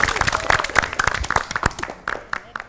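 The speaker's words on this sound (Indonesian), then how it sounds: "Kita beri tepuk tangan dulu." A studio audience on an Indonesian TVRI quiz show claps in a loud, close burst of irregular hand claps, with some voices mixed in.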